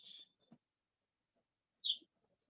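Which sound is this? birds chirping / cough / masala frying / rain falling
birds chirping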